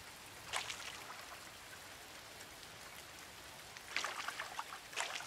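Rain in a farming video game, a soft steady hiss of falling drops with a few louder patters and splashes rising now and then, faint and without talk.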